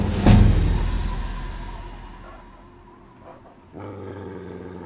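Dog in a Fallout 3 dog fight: a loud, sudden snarl that trails off into low, rumbling growls, then a second deep growl swells up, close and with no voices.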